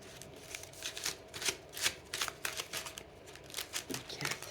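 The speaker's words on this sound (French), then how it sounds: "On va tirer une carte" A deck of cards being shuffled and a card drawn, giving a quick series of crisp riffling and flicking bursts, close up and fairly soft.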